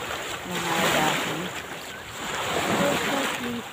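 Ocean waves breaking on a shore strewn with washed-up sea life, a continuous surging roar that swells and ebbs with wind noise, while someone speaks faintly.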